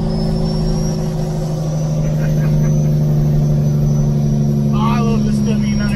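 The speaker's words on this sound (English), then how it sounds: "and then the awesome Jake brake" Jake brake on a Kenworth W900 cattle truck: a loud, steady, low rumbling diesel drone with a rapid pulsing texture, held continuously, with a voice briefly audible over it.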